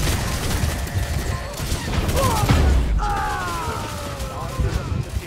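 Sustained rapid gunfire and crashing impacts during a Lawbreakers match, loud and close, with a brief heavy boom midway and metallic ringing afterward, voices faintly mixed in.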